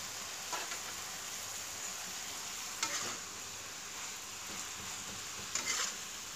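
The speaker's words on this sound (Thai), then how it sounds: "คนให้เข้ากัน" Eggplant and pork frying in a pan, a steady close sizzle with soft stirring scrapes breaking through it a few times.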